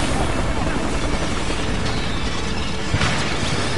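A steady, loud whirring rotor drone of a helicopter in the game Battlefield Hardline fills the clip, with faint clanks and a brief thump near the end.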